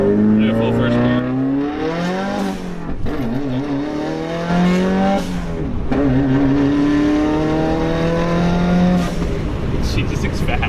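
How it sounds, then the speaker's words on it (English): A modified 2017 Subaru WRX accelerating hard through a full first gear, its engine note rising in repeated loud sweeps as revs climb, with brief breaks between pulls and a voice talking over parts of it. "So let's point it straight and let's send it. Do a full first gear."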